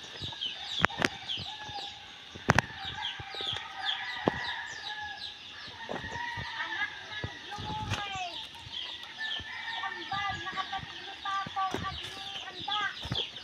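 Chickens cluck and chatter steadily outdoors in a planted garden plot, scratching at the grass, with scattered sharp knocks and rustles throughout, at moderate distance.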